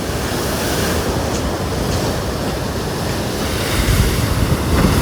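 Ocean waves break on the shore at Nusa Lembongan, Bali, a continuous loud surf roar with gusty wind buffeting the microphone and swells rising toward the end.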